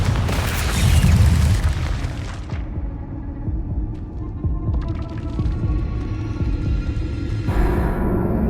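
Confringo fire spell in Hogwarts Legacy going off as a loud, deep explosive boom with a bright burst, then a rumbling low throb that lingers before a second brighter rush of sound near the end.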